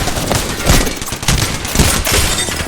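Rapid gunfire in a competitive shooter video game rattles close and loud in dense repeated bursts for nearly three seconds, with no pause between shots.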